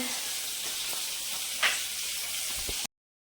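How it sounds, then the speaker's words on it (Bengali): Potatoes fry in a pan with a steady, close sizzle and one brief clink partway through, stopping abruptly near the end. "আলু ভাজছি"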